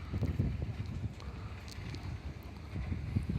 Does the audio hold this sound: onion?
no